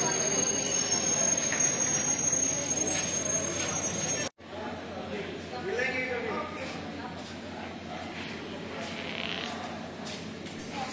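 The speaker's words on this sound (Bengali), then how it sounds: "এই ট্রেনের 7 number official halt north Lakhimpur railway স্টেশনে এসে পৌঁছল।" The Lachit Express pulls into North Lakhimpur railway station at night, a loud rumbling train with rolling wheel noise and some squeal, interrupted by a brief cut before the rumble carries on, with a voice over it.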